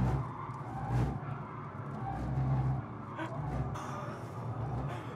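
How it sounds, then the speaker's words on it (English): A Mercedes C63 AMG being drifted, its engine roaring steadily while tires hiss and squeal in long sideways slides, heard from inside the car with some talking. "Drifting down the straight, you baller."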